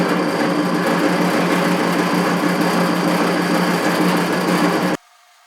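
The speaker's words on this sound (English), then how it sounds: "I'm going to drill a hole here in the bracket for the bolt" Power drill boring a hole through a metal bracket during fabrication for a 2003 Polaris Ranger 6x6 tracks install, a steady loud whining motor drone running continuously for about five seconds before stopping abruptly.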